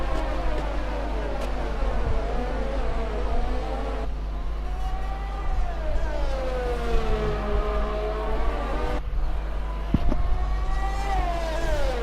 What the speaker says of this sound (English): Listen to that car, absolutely roaring.